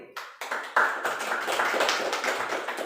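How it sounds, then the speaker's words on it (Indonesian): Classroom audience clapping for a student, starting with a few scattered taps and quickly building into steady, fairly close applause lasting a few seconds. "Baiklah, tepuk tangan dulu untuk teman kita ini."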